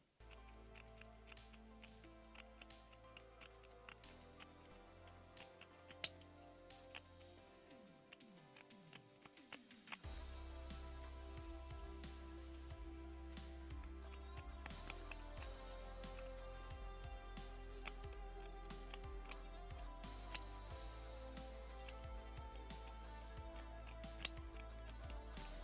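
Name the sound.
scissors trimming seam allowance on lace panties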